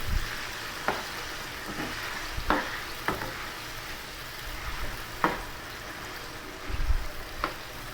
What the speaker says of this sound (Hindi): और इसको उस टाइम तक आपने फ्राई करना है जब तक इसका कलर लाइट ब्राउन ना हो जाए।